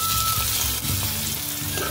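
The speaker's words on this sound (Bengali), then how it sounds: "এবার আমি এই পেঁয়াজগুলো কড়াইতে দিয়ে দেব" Onions fry in a wok with a close, steady sizzle and a few soft stirring sounds across a short stretch.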